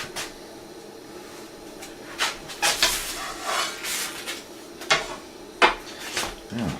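A hard, dense loaf of bread baked in a camp oven is dropped on the floor, landing with a few sharp knocking thuds among scattered kitchen clatter, fairly close.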